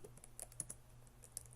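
Quick, light keystrokes on a computer keyboard as a search query is typed, a scattered run of soft clicks over a low steady hum in a quiet room.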